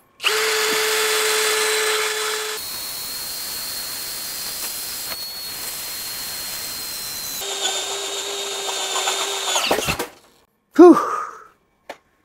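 A DongCheng DCJZ2040i cordless impact drill with a 10 mm bit grinds loudly through 5 mm steel plate, shifting from speed 2 to speed 1 mid-run, then spins down and stops, followed by a brief clatter and a short final whir.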